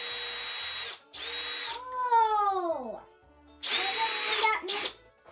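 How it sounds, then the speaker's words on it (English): A power drill with a Forstner bit bores a clean hole in wood. It whines loudly in two long bursts with a falling pitch as the motor winds down in between. A child and an adult speak briefly over it. "the Forstner bit makes a nice clean hole"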